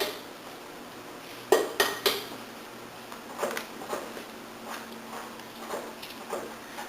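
Eggs and vanilla being mixed in a bowl, a few sharp clinks of a utensil against the dish followed by a run of lighter rhythmic taps and scrapes, close up with no voices.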